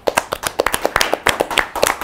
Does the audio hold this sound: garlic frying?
no